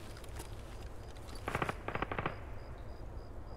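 Two quick bursts of rapid gunfire crackle in the distance in Escape from Tarkov PvE, a few sharp shots each, over a low steady background hum.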